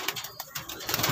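Pigeons coo and shuffle close by before a pigeon toss in Los Baños, in short soft bursts with some rustling and no talk.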